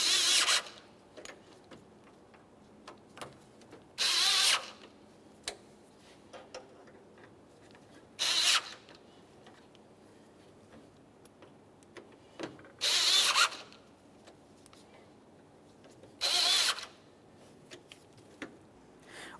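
Grille bolts are snugged on a 1994-1997 Honda Accord with a ratcheting hand tool, giving five loud, clicking bursts of about half a second each, spaced a few seconds apart, with faint handling clatter in the gaps.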